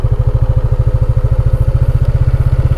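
A motorcycle engine, not built for off-road riding, running on a steep road in the Philippines, its loud, close, steady low pulsing throb repeating rapidly throughout with a faint mechanical clatter and no talking.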